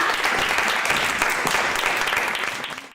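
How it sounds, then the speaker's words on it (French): An audience at an education event applauds loudly for a participant, with dense, close clapping and a few sharper individual claps standing out before the sound cuts off abruptly at the end. "Alors on applaudit bien fort Katharina."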